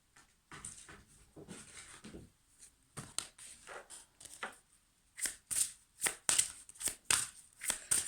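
Tarot cards shuffled by hand, soft riffling at first, then a run of sharp, regular card snaps and slaps close by, with no talking.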